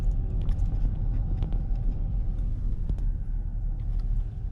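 Car driving slowly through Skid Row in Los Angeles: steady low engine and road rumble inside the vehicle with occasional faint clicks and taps, no talk.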